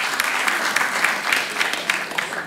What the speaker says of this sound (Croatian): Ajde, dajte aplauz ako se slažete.